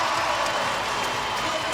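A netball crowd at a Giants v Vixens Suncorp Super Netball game in 2023 roars and applauds, a steady wash of cheering and clapping under a voice talking.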